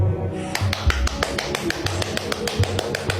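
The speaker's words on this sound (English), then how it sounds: "I'm clapping for myself." A single person claps their hands in a quick, uneven run of sharp slaps, close and fairly clear, with no talking over it.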